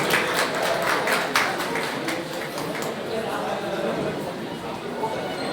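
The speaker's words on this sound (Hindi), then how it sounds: "सभी ताली बजा के स्वागत करें।" An audience at a teachers' district conference in Udaipur, Rajasthan claps in steady applause to welcome guests, with crowd chatter blended in and a loud, dense wash that continues without a break.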